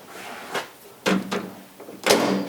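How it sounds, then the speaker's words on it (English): A Frigidaire microwave door swung shut during a repair check in a workshop, a few sharp clacks and latch clicks spaced about half a second apart, close and fairly loud. "Shut the door."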